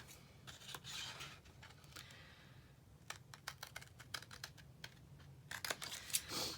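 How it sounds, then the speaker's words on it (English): Paper banners are hand-trimmed with scissors, giving faint, close snips and light papery rustles in an irregular rhythm, with quick clusters of cuts toward the end. "And then I'm just going to hand trim these"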